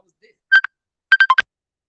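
Touch-tone telephone dialing: two short beeps, a pause, then four quick tones in a row, crisp and close with silence between.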